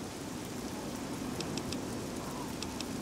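Steady rain from Fallout 3 falls as a dense, even hiss, with faint drop ticks throughout and no voice over it.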